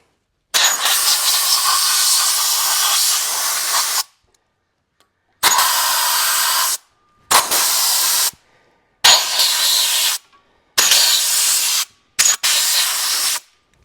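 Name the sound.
compressed air blowing out a log splitter's rubber boots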